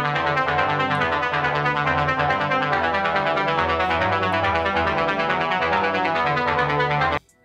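A dry Pad Doc synth pad preset with no effects sustains thick, rich chords that hold steadily and loud, alone, before cutting off abruptly at the end.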